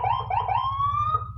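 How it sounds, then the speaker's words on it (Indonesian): A custom Landun police escort siren fitted to a vehicle sounds loud and close. It gives a few quick warbling yelps, then a rising wail that holds and ends sharply. "Ini juga pasang sirine patwal custom Landun."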